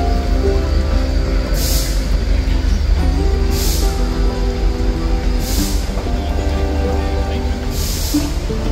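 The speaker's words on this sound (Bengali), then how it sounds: "এগোতে দেখতে পেয়েছি টয় ট্রেন আসছে" Matheran toy train pulling into its hill station, a steady low rumble broken by several short bursts of hissing air.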